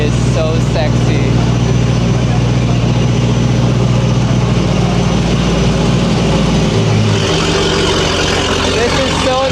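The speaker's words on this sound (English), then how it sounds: "AMG GT3 SLS, and it's got the straight pipe from Tenier along with the down pipes from Wistek with the Wistek Supercharger" Mercedes SLS AMG GT3 running with a straight pipe, downpipes and a supercharger, a loud continuous low engine drone that stays steady before dropping in pitch as it settles, with people talking over it.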